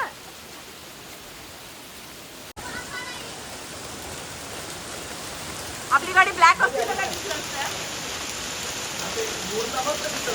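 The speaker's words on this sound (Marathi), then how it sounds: "अरे लिजिट गारा आणि पाऊस किती जोर जोरात पडतोय" Heavy rain and large hailstones pound a car, a dense steady hiss with a burst of sharper impacts partway through, while people talk inside the vehicle.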